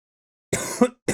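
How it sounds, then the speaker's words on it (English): One person gives a close, sharp cough, a single harsh burst with a brief throaty tail, followed by the start of another cough. "I can't be coughing in these episodes like this all the time."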